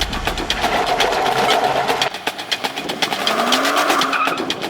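A Nismo-tuned current-generation Nissan Z sports car drives past with a loud, continuous engine note, climbing and shifting in pitch as it accelerates, with tire noise in the mix and no talking.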